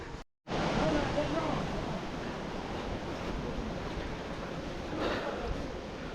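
Water rushes steadily through a lane in Turtuk village, Ladakh, a continuous broadband roar close to the microphone, briefly cut at the start, with some wind buffeting mixed in.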